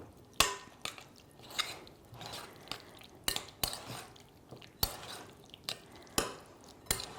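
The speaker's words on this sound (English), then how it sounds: "And we're just gonna mix this together." Ground turkey being mixed with oregano and basil in a kitchen, soft wet squishing and scraping in irregular strokes, close and quiet, with occasional sharper taps of a utensil against the bowl.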